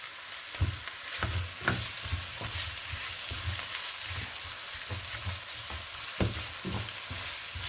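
Corned beef sizzling steadily in a hot pan for meat pie filling, a continuous close frying hiss with occasional spoon scrapes and stirs, no voices.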